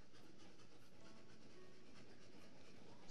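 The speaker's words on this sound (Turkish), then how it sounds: "Bu çok hızlı bir tren ya." A fast train in the Train Valley video game runs along with a steady, quiet mechanical rumble and hiss, continuous and alone throughout.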